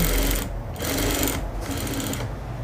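Sewing machine running in bursts as it stitches the edge of gathered stretch fabric for a single spaghetti strap, loud and close with short pauses between runs.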